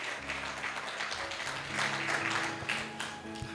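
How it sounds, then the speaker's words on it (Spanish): A church congregation claps in praise during a Spanish-language service. The clapping is steady, dense and fairly close, with a low hum or music running underneath. "Dale fuertes palmas de alabanza a Dios"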